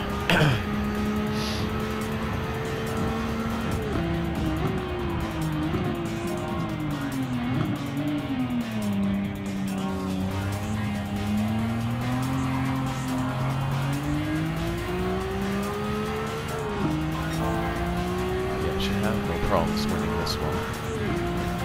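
A race car in Gran Turismo 7 drives hard, its engine note climbing and falling through gear changes, with tire squeal on corners. Someone talks over the steady, close engine drone.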